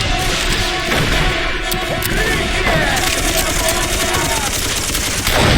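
Dense, continuous gunfire and battle din from the Darkest of Days video game, set at Tannenberg, a loud unbroken wall of rapid shots and crashes throughout.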